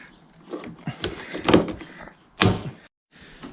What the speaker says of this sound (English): I'll just pot rivet this back on.